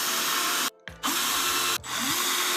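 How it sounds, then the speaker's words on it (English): A power drill drives screws down into wood while a lazy Susan mechanism is fastened, loud whirring bursts broken by short pauses and the pitch dropping as each screw seats. "So grab your screws and your drill, and just holding that in place, we're just gonna drill down."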